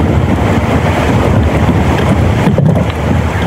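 Strong wind from Typhoon Upong roars continuously and loudly, buffeting the microphone with a dense, rumbling rush that barely lets up.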